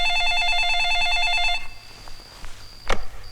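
A telephone rings loudly in a steady repeating trill, which breaks off after about a second and a half, leaving quiet room sound and a brief swoosh.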